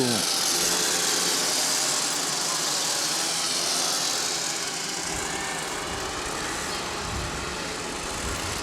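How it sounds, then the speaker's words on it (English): Small motorized scooters ride past in a small-town Lions parade, a steady buzzing engine drone over outdoor noise, with people talking nearby. "Little scooters, I guess you'd call them. Yes. Motorized scooters."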